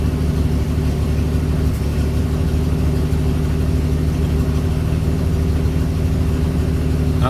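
A rebuilt carbureted car engine idles steadily up close, a deep, even rumble that holds at a constant level throughout, with no voices.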